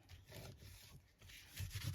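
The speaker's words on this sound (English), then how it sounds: "Clean up my non-stick mat" A cloth wipes across a non-stick craft mat, giving soft, close scrubbing and rubbing strokes in a few uneven passes, quiet and alone.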